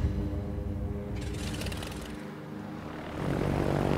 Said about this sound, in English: Since we're using German planes, these are relatively fast, but still fragile planes.